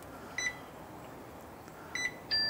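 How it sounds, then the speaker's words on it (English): A ChefsTemp ProTemp Plus meat thermometer beeps as meat reaches temperature, giving two short, faint electronic beep bursts followed by a longer steady tone at the end, over quiet room noise. "So I just heard that beep over there at 145."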